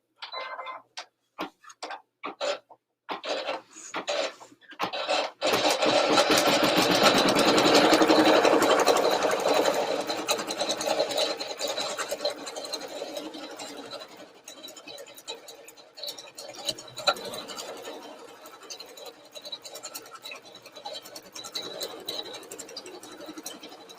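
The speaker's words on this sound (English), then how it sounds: "I'm just going to put all of this on here together and let it all stitch." An embroidery machine stitches a bunny design, starting with a few separate clicks and then running as a steady, close, rapid mechanical whir and ticking that fades slightly toward the end.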